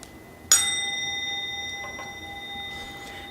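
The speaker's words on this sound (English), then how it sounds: "We'll begin when I ring the bell" A single bell is struck once, ringing out clearly with a long, sustained shimmering tone that slowly fades, with faint soft knocks afterward.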